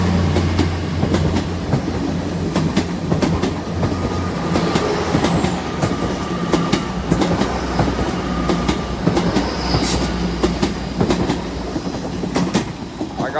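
A Class 800 series passenger train pulls out of Exeter St David's station, a steady rumble with rail clatter and clicks building over about thirteen seconds, close and fairly loud, with no talking.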